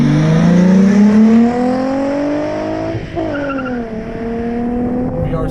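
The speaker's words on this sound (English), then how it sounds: "VR6s sound awesome." A VW Corrado VR6 engine accelerates, its loud, close drone rising steadily in pitch through the gears, with a brief dip at a shift before climbing again.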